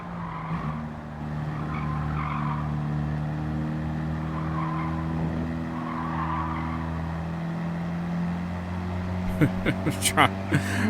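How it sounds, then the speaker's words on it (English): Abarth racing around the Nürburgring in Gran Turismo 7, a steady droning engine note with tire squeal and skidding, ending in a burst of sharp clattering hits, with a person talking over it. "Ripping a fucking Abarth around the Nürburgring"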